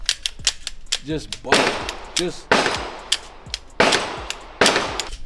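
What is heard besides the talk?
pistol slide being racked and trigger operated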